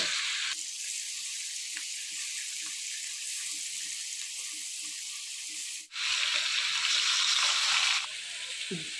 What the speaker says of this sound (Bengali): কড়াইয়ে তেল দিয়ে দিল, এখানে মাছ ছাড়বে